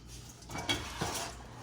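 Pan holding a foil-wrapped smoked brisket pulled from an oven: a couple of soft metallic clanks and a scrape of the pan against the rack, fairly close and quiet, with no talking.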